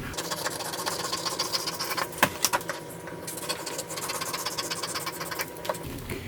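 Sewing machine stitches stiff, thick, shiny scale fabric for a dragon costume, a rapid, steady mechanical chatter close by with a few sharper clacks midway.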